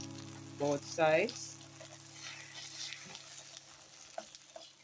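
Jamaican ripe banana fritters frying in oil give a soft, low sizzle, close but faint. A brief tonal voice-like sound and a few light clicks of cooking utensils come over it.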